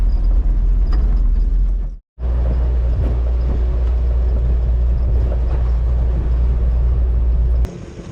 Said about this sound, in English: We're just driving down this little road.